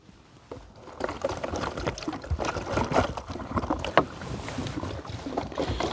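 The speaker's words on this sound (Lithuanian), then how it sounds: "Ir dabar dapilam vandens." Water is poured into a home-brew beer fermenting container: an irregular splashing, gurgling flow with bumps and knocks, close and fairly quiet, with no talk.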